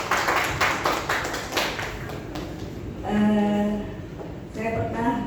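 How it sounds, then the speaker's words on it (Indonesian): A brief scatter of handclaps from an audience at a high school event fades out, then a person begins speaking. "Tepuk tangan dong."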